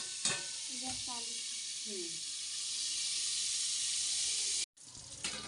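Bitter gourd and chili roast on a hot pan with a steady, close sizzle and hiss, some brief scraping and popping at the start, and a sudden cut before the sizzling resumes.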